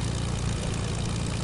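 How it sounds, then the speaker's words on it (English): An airplane flies overhead in Fortnite, its propeller engine giving a steady low drone that fills the short stretch at moderate loudness with no talk over it. "Another plane above us."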